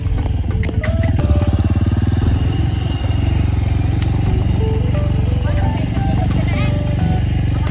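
A Honda CRF150 motorcycle engine rumbles steadily up close throughout a ride, with a clattering mechanical texture and people talking over it.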